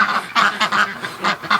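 Muscovy ducks quack in a quick series of about six close, loud calls, alone without talk.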